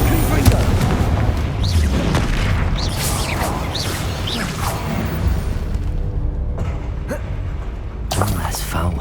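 Booming spell blasts such as Bombarda and Confringo go off in the Hogwarts Legacy video game, a dense run of loud explosive bursts and whooshes mixed with dramatic game audio.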